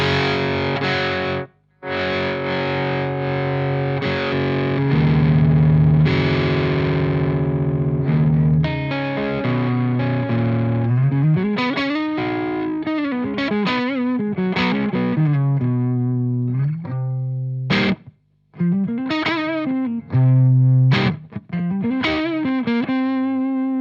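An electric guitar plays through a Magnatone SL-100 Slash signature head on the high input with high gain maxed, giving heavily distorted sustained chords and then bent single-note lead phrases with short pauses, loud and alone.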